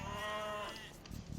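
A single sheep bleat from Age of Empires II, a short wavering call, faint and close, followed by a few soft clicks.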